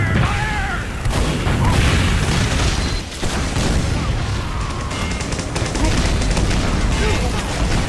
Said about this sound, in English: The hot pepper has a sentry gun now.